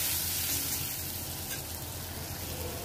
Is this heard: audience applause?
no